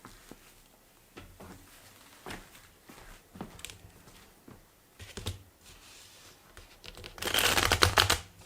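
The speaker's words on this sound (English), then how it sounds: "I'm gonna shuffle a couple more times on the side" Soft tarot cards slide and tap together in scattered handling sounds, ending in a louder, rustling shuffle burst near the end; fairly quiet and close.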